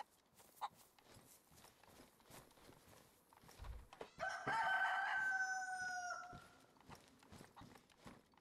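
A rooster crows once in the survival game DayZ, a loud drawn-out call rising over steady footsteps and rustling movement that continue before and after.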